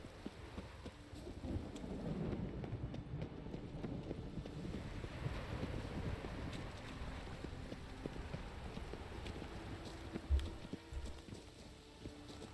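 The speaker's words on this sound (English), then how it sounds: "love the sound of rain" Steady rain ambience in the video game The Witcher 3: Wild Hunt, a soft, continuous wash of falling rain with a low rumble and a brief thump partway through, faint and without talk.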